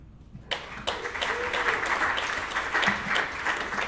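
Audience applause at a pre-TEDxLA talk event, a steady wash of clapping that breaks out suddenly and keeps going at full strength, loud and close with no voices over it.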